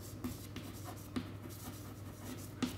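A pen or chalk writes during an engineering lecture on strain, making soft, close scratching strokes with a few sharper taps against a low background hum.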